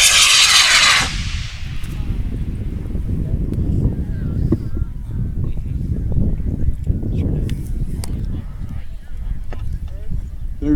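A model rocket on a Cesaroni H120 motor launches at a rocketry competition: a sharp, loud ignition burst, then a long roaring rumble that gradually fades as it climbs away outdoors.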